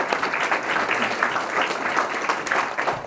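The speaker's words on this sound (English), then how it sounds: "I'll give you a round of applause." Steady applause from an audience at a fire department awards ceremony, a moderate stretch of even clapping from a crowd of people with no talking over it.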